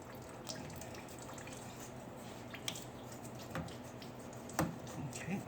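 Antifreeze drains out of the radiator of a 2006 Dodge Ram 5.7L pickup, a faint, steady trickle and splash of liquid with a few sharper drips and small knocks, quiet throughout.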